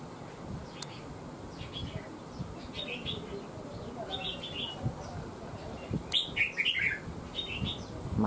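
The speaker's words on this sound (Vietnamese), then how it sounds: "Chim khá đẹp." A crested bulbul chirps in short, bright phrases, several calls spread across the stretch and a busier burst near the end, over a faint, steady outdoor background hum.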